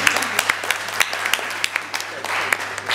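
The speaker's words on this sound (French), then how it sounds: "Ça s'applaudit, n'est-ce pas?" Scattered applause from an audience at a ceremony honouring young Ivorian mathematics olympiad medal winners, individual claps sharp and uneven over a steady hum, with faint voices underneath.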